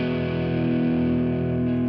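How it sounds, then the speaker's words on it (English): An electric guitar played through a distortion effect on its first pickup, tone turned up, rings out as one loud, steady, buzzing sustained chord that holds for the whole stretch with no talking. "now let's start to increase the distortion."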